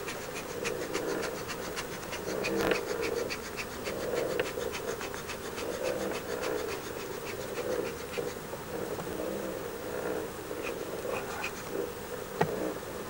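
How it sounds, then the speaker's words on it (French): Honeybees buzz steadily around an open, partly uncapped hive frame at an apiary in Pelissanne, a dense close swarm drone with occasional sharp scratches and knocks from handling the frame. "il y a des abeilles qui viennent se gaver."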